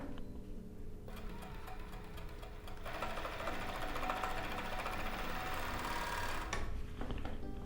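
Overlock serger stitching a test seam on fabric, a fast steady mechanical whirring chatter close by, rising in intensity through the middle as it runs at speed, with no talking.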